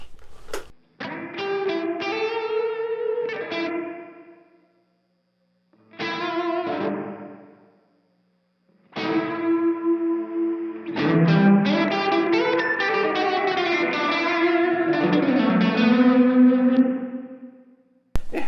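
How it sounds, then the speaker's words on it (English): Electric guitar phrases through an M-Vave Mini Universe reverb pedal, drenched in heavy reverb and echo, notes trailing and swelling, with pauses between bursts and a long washed-out chord passage. "You can get some crazy wacky sounds, you can get some pretty standard reverb sounds"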